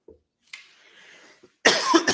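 A person coughs and clears their throat, a short rough burst near the start and a louder, harsh cough close to the microphone at the end, with quiet between.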